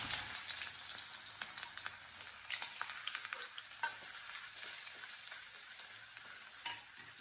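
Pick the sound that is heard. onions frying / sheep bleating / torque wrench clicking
onions frying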